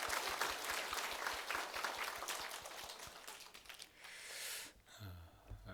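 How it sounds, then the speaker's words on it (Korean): A church congregation claps steadily for several seconds for the Sunday school children at a Christmas service, dense applause that fades out near the end, followed by a brief low thump. "우리 주일학교 다시 한번 우리 박수 한번 보내주시면 좋겠습니다."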